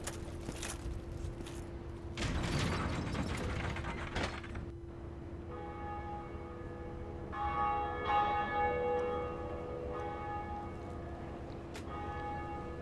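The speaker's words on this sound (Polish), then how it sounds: "Pierwszy dzwon." A large bell tolls in Dark Souls, heard as a deep, resonant ring with a long sustained decay. A steady hum and mechanical clanking run underneath, and a brief burst of louder noise comes early on.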